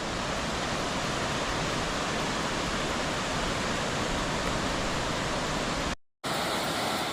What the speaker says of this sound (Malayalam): ഈ പുഴ ഒഴുകി വരുന്നൊരു കാഴ്ച കണ്ടോ